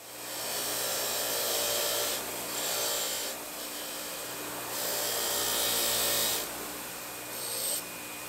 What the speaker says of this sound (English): then wire wheeled the whole thing